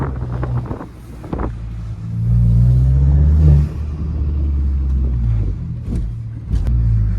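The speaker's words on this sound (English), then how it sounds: "But I'm going to switch the exhaust over." A Volkswagen Golf GTI Mk8 engine rumbles and revs with a deep, rising exhaust note, mixed with wind noise; a couple of sharp clicks are heard near the end.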